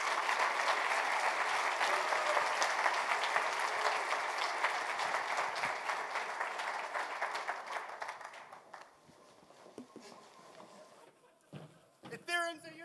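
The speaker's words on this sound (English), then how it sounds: "I'm now ready for that applause and ovation" A conference audience at Devcon3 breaks into sustained applause after a talk, dense clapping for about eight seconds that thins and fades, followed by a few scattered claps and shouted voices.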